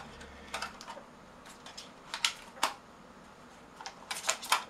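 Plastic arms of an X33c-1 RC drone fold in with a handful of sharp, quiet clicks and snaps, irregularly spaced, close by, with no talk.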